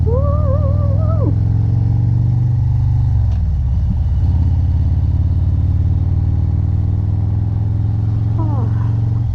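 Motorcycle engine droning steadily and loudly throughout a road ride with gravel nearby, with brief vocal sounds over the running engine near the start and end.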